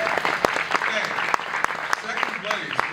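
Applause at a science fiction convention awards presentation, moderate clapping with individual sharp claps standing out, mixed with voices and murmuring from the room.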